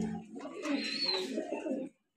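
A fancy pigeon coos at a pigeon farm, one soft, close throaty call lasting under two seconds before a brief silence.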